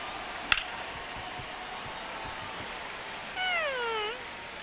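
Pet cat gives a single clear, drawn-out meow near the end, heard fairly close over a quiet background hum after a brief sharp tap.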